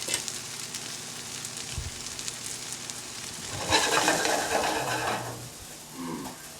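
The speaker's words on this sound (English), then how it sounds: "This is where I want to put the garlic in." Garlic hits a hot pan with a sizzle that swells midway and settles into a steady frying hiss, with a few faint knocks of a utensil near the end.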